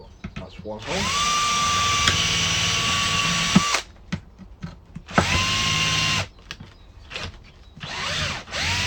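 Close, loud whirring of a power drill boring holes through the base of a plastic water bottle, with a long steady run, a shorter second burst, and handling knocks in between.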